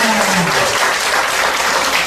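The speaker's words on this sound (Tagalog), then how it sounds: "Confirm natin sa palakpak." An audience at a presentation claps together in agreement, producing a loud, dense, continuous burst of applause filling the whole moment without speech.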